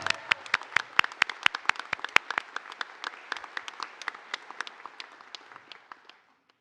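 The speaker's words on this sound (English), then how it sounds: "Round of applause for class" Sparse, distinct hand claps from a modest audience at a medical school white coat ceremony for a new class, sharp individual claps in a loose irregular patter that thins and stops abruptly near the end.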